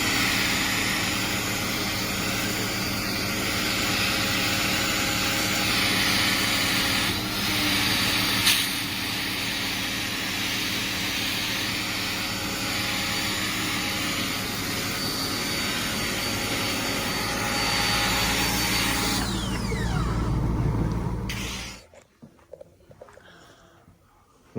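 A 3.0-litre 24-valve Volvo 960 engine, revived after six years parked, runs at a steady, even idle close to the microphone with a constant droning hum, then cuts off abruptly near the end.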